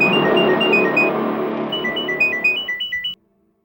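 A mobile phone rings with a repeating electronic melody, loud and close, over background music, then cuts off abruptly near the end.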